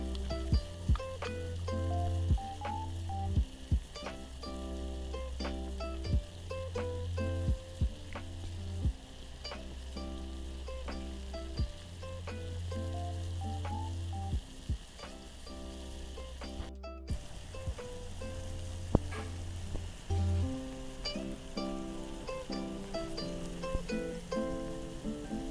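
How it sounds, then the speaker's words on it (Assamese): Herbal tea water boils steadily in a pot, giving a close, continuous bubbling and crackling with a low hum underneath and no talking. "আমি ভালকৈ উতলিবলৈ দিছোঁ"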